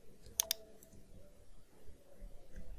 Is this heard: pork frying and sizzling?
no